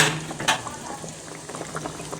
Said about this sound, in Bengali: আমি এখন মাছগুলো সব ঢেলে দিয়ে দিলাম।